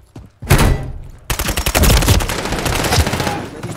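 Gunfire in Call of Duty Modern Warfare III: after a quiet moment, dense bursts of rapid automatic shots crack out loud and close, continuing in clusters to the end.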